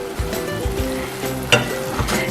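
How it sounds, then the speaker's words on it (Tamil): Washed spinach greens go into a pot of boiling sambar, setting off a steady, close sizzling bubble with a few soft stirring scrapes over about two seconds. "இப்ப வந்து அலசி வச்சிருக்க கீரையை சேர்த்துக்கங்க."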